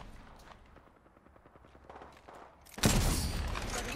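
Gunfire in a shooting video game: quieter game ambience suddenly breaks into a loud, dense burst of rapid shots that keeps going to the end.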